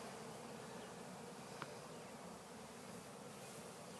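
A big honeybee swarm on a cedar tree hums as the bees fan, a dense continuous buzz at even volume with no talking.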